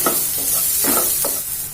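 Vegetables stirred with Maggi masala in a cooking pan, a spoon scraping in a few distinct strokes over a steady soft sizzle, close and with no talk.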